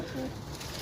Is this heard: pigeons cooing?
yes